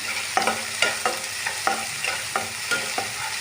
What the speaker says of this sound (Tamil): தக்காளி போட்டுக்கிறேன் அப்புறம் கொஞ்சமாக கருவேப்பிலை போட்டுட்டு நம்ம நல்லா இதை ஃப்ரை பண்ணலாம்